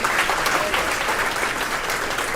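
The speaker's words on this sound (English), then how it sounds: "So I just want you guys to give a round of applause to the amazing Myntra team," Applause from an audience at a talk honouring the Myntra team, dense and even clapping throughout with no pauses, fairly loud and close.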